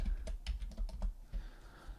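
Fast keystrokes on a computer keyboard while entering a value into a spreadsheet, with a quick run of close, crisp clicks that pause briefly before a few more taps.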